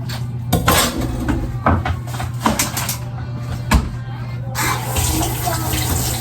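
A kitchen tap runs as sliced banana is rinsed under it, a loud steady splash of water with clinks and knocks of a bowl or utensils, close by, with a faint voice in the background.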